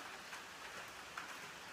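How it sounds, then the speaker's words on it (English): Steady rain patters on foliage and ground along the Appalachian Trail, a soft continuous wash of drops with no clear voices. "Just in time for it to rain."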